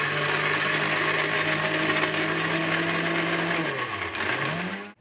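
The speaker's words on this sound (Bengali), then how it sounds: "চলুন এটা আমরা মিক্সিতে পেস্ট করে" A mixer grinder whirs loudly as it blends spice paste for a prawn malai curry. The motor holds a steady whine, then dips and rises in pitch near the end before cutting off abruptly.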